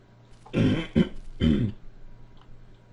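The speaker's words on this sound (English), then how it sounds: "I had to clear my throat" Someone clears their throat in three quick, rough bursts, close by, followed by quiet.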